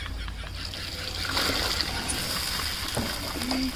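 Hot water is poured into a pot of khichdi cooking on a wood-fired chulha, a steady close splashing gush that runs for the whole stretch under faint background noise.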